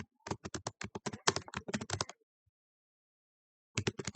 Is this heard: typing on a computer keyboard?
yes